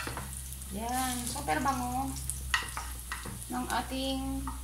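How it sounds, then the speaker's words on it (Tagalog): Garlic sizzles in a hot pan as the base for a sautéed mung bean stew, a soft frying hiss running steadily beneath a person talking throughout. "Igisa natin guys ng may pagmamahal para super sarap ang ating ginisang munggo"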